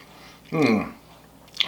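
A single crunchy bite of pretzel-crusted chicken followed by brief chewing, close and clear, with quiet background otherwise.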